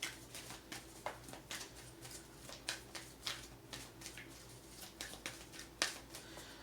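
A deck of oracle cards being shuffled by hand, giving a steady run of soft, papery riffles and slaps close by, fairly quiet, with no talking.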